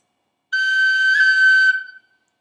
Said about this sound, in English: Here's a high G pip.